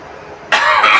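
A man coughs, a single short harsh burst that starts abruptly halfway through and continues loudly to the end, following a quiet stretch.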